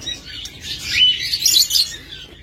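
Pet lovebirds kept as breeding pairs for sale chirp in a busy overlapping chatter of high tweets, moderately loud and close, with no talking.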